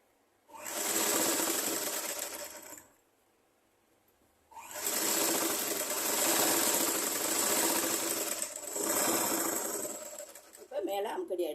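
A sewing machine stitches along a fabric edge in fast, loud whirring bursts, two long runs and a shorter one separated by pauses, with a voice briefly near the end.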